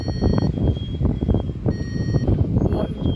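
Circuit tester probing a Hyundai's coil wiring emits repeated electronic beeps for a negative reading, two short tonal bursts over heavy low background noise.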